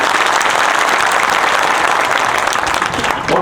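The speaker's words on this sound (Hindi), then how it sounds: "एक बार प्रधानमंत्री जी के लिए दिल से ताली बजाइए" Loud, dense applause from an audience thanking the Prime Minister at a public event for water-supply works, sustained and close throughout.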